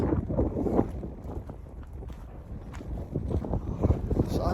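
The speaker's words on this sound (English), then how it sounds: "Super windy!" Strong wind buffets the microphone in loud, uneven gusts, a continuous low roar with rough bursts throughout.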